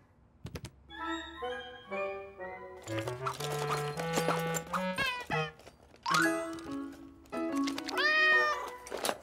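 A cartoon cat meows repeatedly in a Caillou episode, a series of clear, drawn-out meows close up, mixed with light jingling and bright tones.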